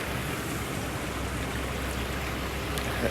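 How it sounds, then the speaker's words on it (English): A waterfall swollen with fresh water pours steadily on an off-trail hike, a broad, continuous rushing roar with no pauses. "I want to check out the waterfall now"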